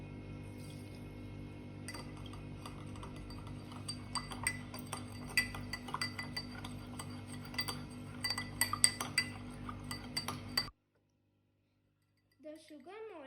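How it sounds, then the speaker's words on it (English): A metal spoon stirs sugar into a glass of water, clinking rapidly and irregularly against the glass for about ten seconds before stopping abruptly, followed by a brief silence and then a short burst of sound. "Now, I am taking a glass of water and I am mixing a spoon of sugar."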